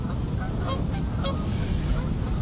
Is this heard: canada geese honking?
yes